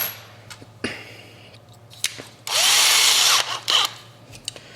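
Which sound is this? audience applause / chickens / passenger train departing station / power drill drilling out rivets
power drill drilling out rivets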